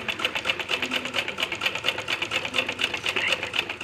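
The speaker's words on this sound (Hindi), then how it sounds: "आपको यहाँ पर मशीन ज़्यादा तेज़ नहीं चलानी है, आराम से मशीन चलाते हुए" A sewing machine stitching a kurta runs at a steady moderate pace, its rapid needle clatter pulsing evenly and close up, without any voices.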